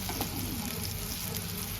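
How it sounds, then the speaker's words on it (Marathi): Soya and corn kababs shallow-frying in hot oil in a pan, a steady close sizzle and crackle holding evenly through the whole stretch with no talk over it. "हे दोन्ही बाजूनी खरपूस तेलावरती फ्राय करायचे."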